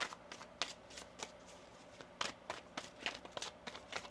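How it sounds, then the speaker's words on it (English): Tarot cards shuffled by hand, a quick run of soft, crisp riffling bursts in an irregular rhythm, close and fairly quiet. "One more shuffle."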